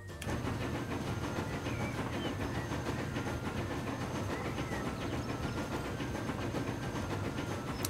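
Steady rumble and rolling clatter of a train ride between Washington and Toronto in the Transport Fever game, a continuous loud drone with faint rhythmic clicks throughout and no talking.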